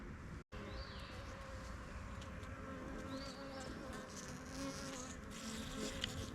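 Honeybees buzz steadily around a small mini mating nuc with a queen and attendants, a faint continuous hum with a few louder passing buzzes of individual bees close by.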